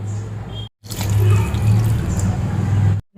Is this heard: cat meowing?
no